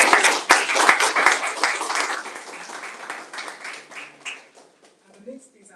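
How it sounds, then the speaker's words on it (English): An audience at a live classical guitar performance claps loudly in a dense burst that gradually thins and fades out over several seconds, with a few scattered claps trailing at the end. "Can I have a clap"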